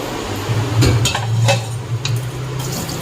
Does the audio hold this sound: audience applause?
no